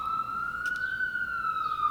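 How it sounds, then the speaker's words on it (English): An ambulance siren wails steadily in a slow rising tone, loud and fairly near, holding one long sustained note with no talk over it. "And I see the ambulance right there."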